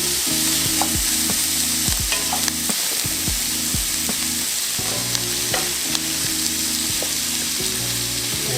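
Asparagus with about a tablespoon of minced garlic sizzles steadily in a pan, a loud continuous fry broken by repeated clatters of stirring and scraping close by.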